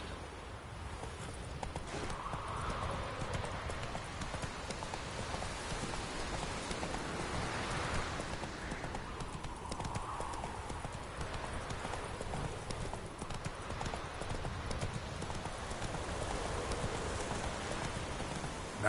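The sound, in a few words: horse Roach galloping in rain, video game The Witcher 3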